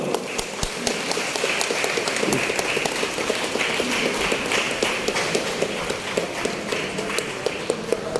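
Audience applause at a prize ceremony for a poetry competition, a steady patter of many hands clapping at moderate distance, continuing evenly without speech.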